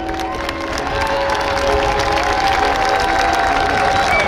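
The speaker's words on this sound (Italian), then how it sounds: "Applaudiamo il nostro comandante" Crowd at the Frecce Tricolori air show in Jesolo applauds and cheers steadily for several seconds, a dense wash of clapping from a large outdoor audience with a tonal hum underneath.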